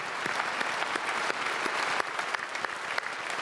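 Steady applause from a church congregation at a special early-morning revival service, dense and sustained throughout with no talking.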